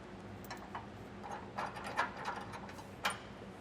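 Faint metallic ratcheting and clinks of bolts being threaded onto a Curt E16 fifth wheel hitch bracket on a 2019 Ram 2500 frame, a few short bursts with scattered clicks at close range, no talking.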